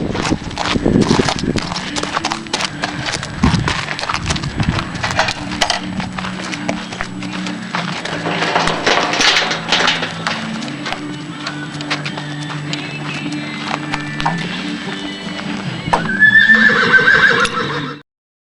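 Horse hooves clop steadily on a hard surface for a long stretch, with a loud, close whinny breaking out near the end.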